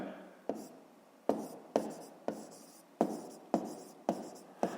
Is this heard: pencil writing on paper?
yes